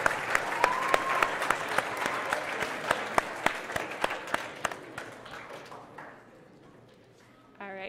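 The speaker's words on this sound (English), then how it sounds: "So can we get a round of applause for all of our chaperones?" An audience at a regional awards ceremony applauds for the chaperones, with dense clapping and a few sharp individual claps standing out, fading toward the end before a brief voice.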